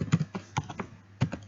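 A Python comment is typed on a computer keyboard as a short run of irregular, close key clicks with small pauses between them and no talk.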